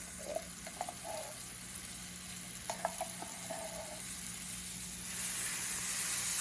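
Refried beans sizzle softly in a hot pan while being mashed, with a steady low frying hiss, faint scraping taps and a brief rise in steam noise near the end, quiet and close.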